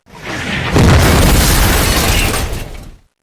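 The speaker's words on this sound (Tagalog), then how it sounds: "sumabog ang isang shell malapit sa kanya" An artillery shell explodes near a wartime locomotive during the siege of Leningrad, a loud, close, sustained blast with a deep rumbling roar that fades after about two seconds.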